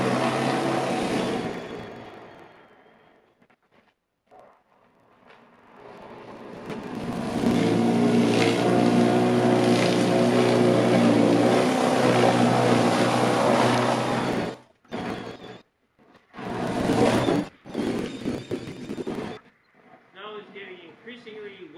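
A battery-powered EGO Power+ snow blower pushes through wet, heavy snow up a roughly 6% grade driveway, its loud, steady motor whine building and holding for several seconds before cutting in and out, while someone talks over it.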